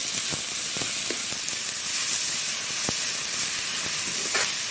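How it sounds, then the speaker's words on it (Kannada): Sliced onion and fennel seeds fry in a pan with a steady, even hiss of sizzling oil that holds at one level throughout, broken by a few faint ticks and taps, close and moderately loud. "ಇದೀಗ ಚಂದ ಮಾಡಿ ಫ್ರೈ ಆಗಬೇಕು, ಕಲರ್ ಬರಬೇಕು, ಅಷ್ಟರವರೆಗೆ ಫ್ರೈ ಮಾಡುವ"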